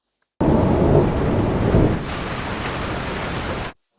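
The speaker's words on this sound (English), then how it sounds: "The first scene uses rain," Cinematic rain and thunder effect: a dense, steady wash of heavy rain with a deep rolling rumble in the first half, starting and cutting off abruptly, no voices.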